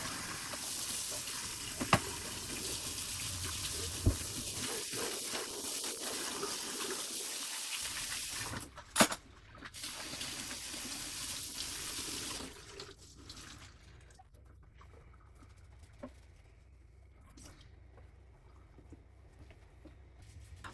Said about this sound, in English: I'm just going to do up these couple dishes that I have sitting here